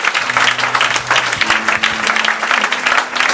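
A church congregation claps in a dense, sustained burst of applause that fills the room, with a faint low musical tone running beneath it.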